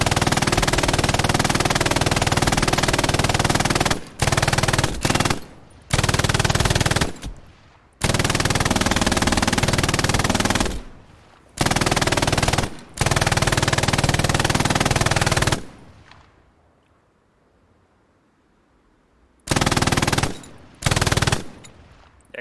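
A machine gun fires a belt during live-fire training in long, loud sustained bursts broken by brief gaps, then falls quiet for several seconds before a few final bursts.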